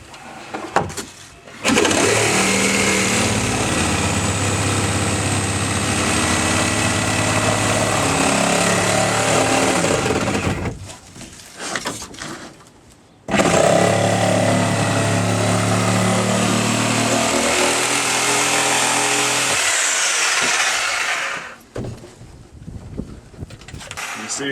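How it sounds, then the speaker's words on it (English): A Sawzall reciprocating saw cutting through rotten wooden stringers of a Sea Ray 220 BR boat, a loud buzzing motor in two long bursts of about nine seconds each, separated by a short pause, with quieter handling noise after. "The Sawzall gets easy to cut."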